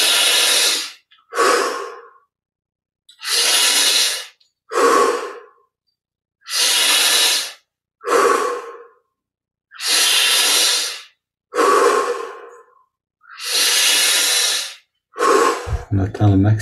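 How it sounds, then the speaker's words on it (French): Slow, deep breaths during a guided meditation, each long inhale and exhale loud and close, repeating steadily in alternating pairs with brief silences between, no talking over them. "On augmente progressivement l'amplitude de la respiration."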